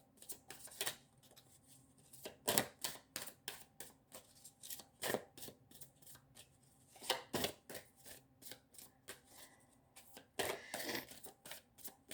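Tarot cards are shuffled by hand at close range, with crisp riffling flicks and soft slaps coming in irregular bursts throughout, sometimes in quick runs and sometimes spaced apart, with no voices.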